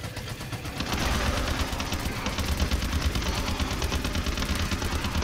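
Dense, sustained video game gunfire, a continuous rattling barrage of rapid shots that fills the whole stretch at steady loudness with no pauses.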